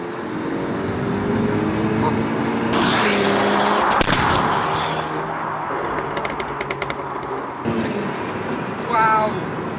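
An Audi S3 tuned to Stage 2+ with antilag revs hard through a full-throttle pull, its loud roaring exhaust broken by sharp pops and a fast run of crackles near the end.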